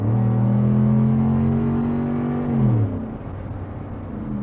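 A 2013 Ford F-150 with a 5.0 Coyote V8 pulls hard, its engine note climbing loud and steady for over two seconds, then dropping off to a lower rumble as the throttle eases.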